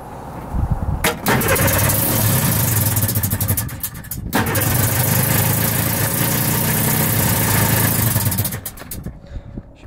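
A 2-stroke engine on a cheap 6x6 amphibious tank is choked and started: a brief crank, then loud, steady close-up running with a short stumble, before it cuts off near the end.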